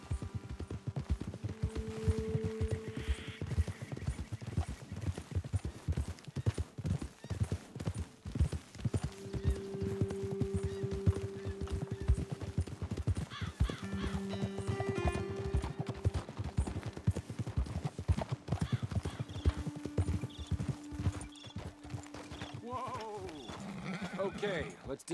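Horses' hooves in the Red Dead Redemption 2 video game, a rapid, steady clip-clop of several horses moving together over rough ground, close and continuous, with occasional bleats, a whinny and spoken dialogue over it.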